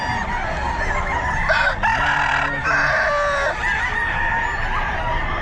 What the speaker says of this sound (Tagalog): sobrang daming mga manok.